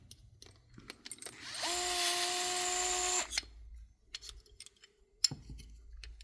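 A power drill whirs in one steady burst of about two seconds, backing out bolts from the switch plate of a Spolar Power Load Gold Premier shotshell reloader. Quiet clicks and handling noises come before and after.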